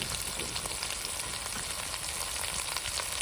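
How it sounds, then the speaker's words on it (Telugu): Turmeric, coriander powder and garam masala frying in oil for mutton brain fry, a loud, dense, unbroken sizzle with faint stirring beneath, close and steady. "కొద్దిగా గరం మసాలా పావు టీ స్పూన్ మంచిగా వేయించుకుని"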